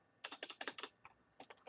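Keys clatter on a computer keyboard in a quick burst of about eight close, crisp strokes, then a short pause and a few more keystrokes, typing in a record entry.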